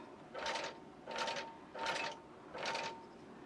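Longarm quilting machine basting a quilt top, four evenly spaced bursts of rapid stitching, each about half a second long with brief pauses between, close and clear with no talking.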